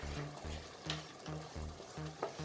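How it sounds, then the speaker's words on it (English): Cooked beans being stirred together with sauce in a pot, a spoon scraping in a steady rhythm of repeated strokes, close up, with a soft sizzle underneath. "I'm going to be adding the sauce into the beans, and I'm going to stir together"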